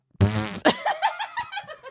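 A single close fart sounds loudly, then trails off into a short sputtering tail.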